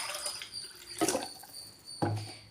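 Water poured from a tumbler into a pot of soaked rice for chicken biryani, heard as two short splashing pours about a second apart, close by and fairly quiet.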